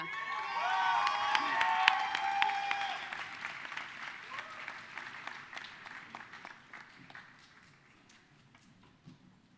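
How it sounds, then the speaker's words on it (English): A high school graduation crowd breaks into applause and cheering for the graduates, loud clapping mixed with shouts and whoops that gradually fade to lighter scattered clapping, with voices calling out throughout. "Another round of applause for all of our graduates, please."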